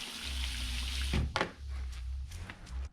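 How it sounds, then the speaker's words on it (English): Water runs from a pressurized rear-bumper shower tank on a Honda Fit car camper, a steady close spray with a brief splashing burst partway through, no talking. "Now we got plenty of running water."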